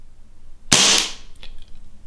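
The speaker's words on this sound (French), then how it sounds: "je tire dans une direction sûre" A single sharp crack from an Umarex UX Tornado 4.5 mm air revolver fired in single action, loud and close, with a short fading tail and a faint click shortly after.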